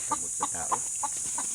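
Chickens belonging to a father cluck in a run of about six short, evenly spaced calls, close and moderately loud over a steady background hiss, with no talking.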